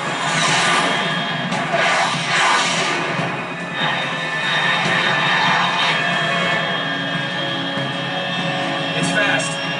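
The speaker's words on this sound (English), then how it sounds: "Unidentified aircraft detected." A fast aircraft roars overhead in the video game Metal Gear Solid 3, a continuous loud jet rumble and whoosh layered with game ambience and sound effects, with a radio-style voice speaking over it.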